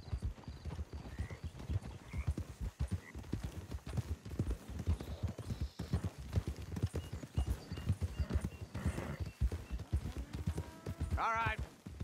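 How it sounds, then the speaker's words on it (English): Horses in Red Dead Redemption 2 clop along in a rapid, steady rhythm of hoofbeats close by, with a brief whinny near the end and voices speaking over the riding. "Don't want the horses clopping around outside the window."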